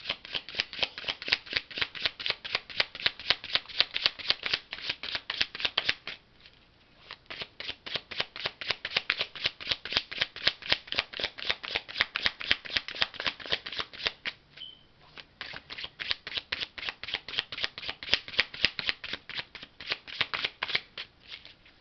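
Tarot cards are shuffled rapidly and continuously, a dense riffling flutter that pauses briefly twice before resuming, close and fairly loud.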